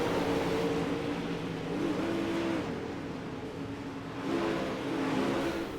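A dirt pro late model race car, number 69, roars steadily at Eldora, its engine revving up and easing off in loud, continuous waves.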